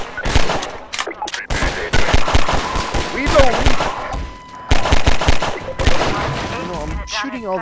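Gunfire in Half-Life 2 in the underground railroad area as enemies are shot. Loud, rapid bursts of shots come in several clusters separated by short pauses, with occasional talking mixed in.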